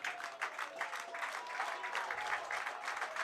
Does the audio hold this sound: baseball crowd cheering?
yes